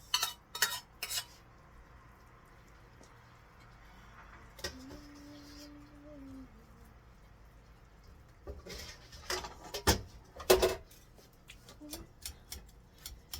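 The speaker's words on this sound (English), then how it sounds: "I choose to mash it when it's hot because you get a better texture" Clanks and scrapes of a utensil mashing a hot herb mixture in a pot, arriving in irregular bursts with quiet gaps and a brief tonal squeak midway.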